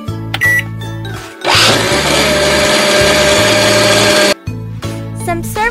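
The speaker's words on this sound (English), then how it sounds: "Then put it in the blender." A video-game blender whirs loudly and steadily for a few seconds while blending mango slices and ice, set between short bursts of cartoonish game music and sound effects.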